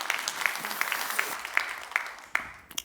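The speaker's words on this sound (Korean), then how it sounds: "여러분 박수 한번 해주셔요" A church congregation claps during an early-morning Korean service, a moderate spread of hands with a few sharper individual claps standing out, fairly close and without talk over it.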